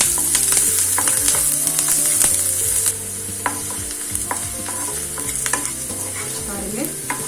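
Onions sautéing in a pan, a loud continuous sizzle with frequent spoon scrapes and taps as they are stirred, no talking.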